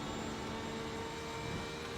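A race car engine in sixth gear in a sim-racing event at Phillip Island, revving toward 9,000 rpm. It is a steady, continuous high-pitched drone that stays even and loud for the whole stretch, with no voices.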